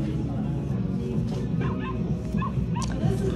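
A recorded dog bark plays from a Cinnamoroll Build-A-Bear plush, a few small yipping, whimpering barks close by over a busy background murmur.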